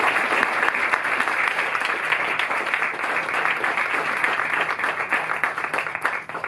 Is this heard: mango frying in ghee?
no